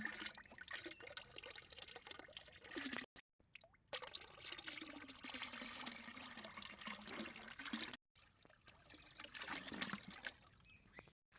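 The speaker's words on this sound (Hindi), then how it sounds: "इस घोल को 200 लीटर के ड्रम में डालूंगा" Liquid solution of jaggery and sugarcane pieces poured into a 200-litre drum of water, a steady close splashing pour running for most of the stretch with two short breaks.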